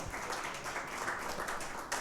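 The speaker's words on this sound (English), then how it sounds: "Let's give a big round of applause for Mr. May." Clapping from a small crowd at a live hockey coach's show held in a pizza restaurant, a faint, even patter lasting about two seconds.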